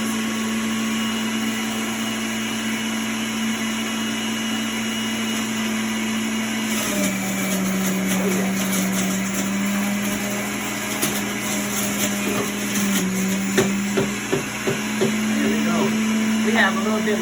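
A juicer motor whirs steadily while pressing beet leaves, a loud continuous hum that turns rougher with crackling grinding in the second half.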